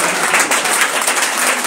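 A church congregation claps and cheers in acclaim of the Lord during a French-language service, making dense, loud, continuous applause that fills the short moment.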